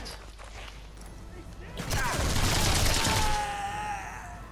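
SMG gunfire in the video game Sniper Elite 3 comes as a loud burst of rapid shots, preceded by quieter game ambience and trailing off into echoing noise, with a brief spoken word at the start.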